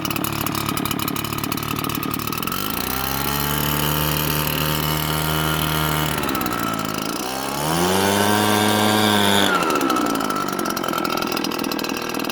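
A Redmax EBZ8550 backpack leaf blower engine runs steadily nearby, its droning whine dipping and rising in pitch twice as the throttle changes, with no talking.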